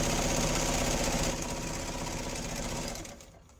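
A domestic sewing machine runs a steady, continuous stitching whir while sewing along the edge of a fabric envelope under the presser foot. It stays close and even before winding down near the end.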